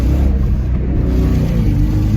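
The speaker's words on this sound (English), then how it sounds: "Man, that exhaust leak's worse." The engine of a 2000 Ford Mustang with an exhaust leak runs loud and close in a steady, rumbling idle with a rough pulsing low tone and no voices over it.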